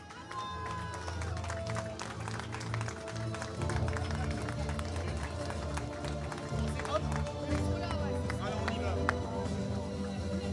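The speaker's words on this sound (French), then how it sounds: "Applaudissements pour le podium masculin, mesdames et messieurs" A crowd at an outdoor half-marathon awards ceremony applauds the men's podium, with sustained clapping and cheering under a loud announcer and background music, all dense and continuous.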